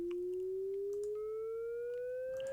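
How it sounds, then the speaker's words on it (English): A pure synthesizer tone slowly sweeping upward in pitch, with fainter higher distortion harmonics entering partway through, steady and alone. "we got loud distortion harmonics going on."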